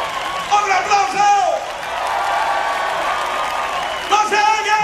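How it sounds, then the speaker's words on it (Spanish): Concert audience applause with cheering and whoops, steady crowd noise filling the room while a voice sings or calls over it, swelling again near the end. "¡Un aplauso!"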